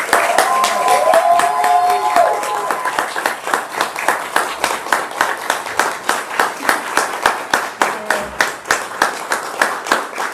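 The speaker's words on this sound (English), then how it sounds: "one last round of applause for these graduates" An audience applauds graduates at a graduation ceremony, starting with dense clapping that thins into slower, distinct individual claps toward the end. Brief speech is heard early on.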